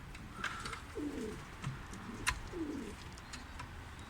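Pigeons coo softly in low, rolling phrases, several calls in a row, with faint chirps and small clicks in the background.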